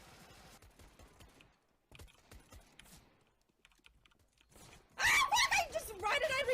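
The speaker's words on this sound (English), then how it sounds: "Stop shooting me!" Gunfire rattles in a multiplayer shooter video game, faint sporadic shots and clicks early on, then a loud dense burst of rapid firing in the last seconds, with a player talking over parts of it.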